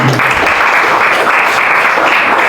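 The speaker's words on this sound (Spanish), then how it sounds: "Dale un fuerte aplauso al Señor." Strong, loud applause from a church congregation, a continuous wash of clapping that holds steady for a couple of seconds.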